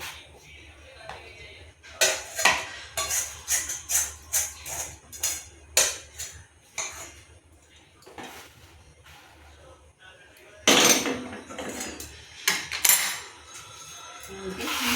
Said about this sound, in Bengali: চামচা দিয়ে সেটিং করে নিচ্ছি।